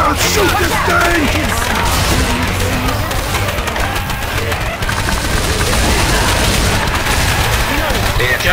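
Gunfire in the zombie shooter Left 4 Dead 2, dense continuous bursts and booms filling the whole stretch at high level, with players talking over the shooting.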